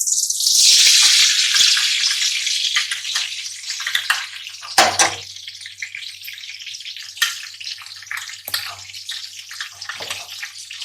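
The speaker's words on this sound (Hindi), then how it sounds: "अब हम इसमें ये घी डालेंगे।" Ghee poured into a preheated kadhai bursts into a loud, bright sizzle that gradually settles into a steady frying hiss, with a few sharp clinks and stirring taps as the fat heats for tori sabzi.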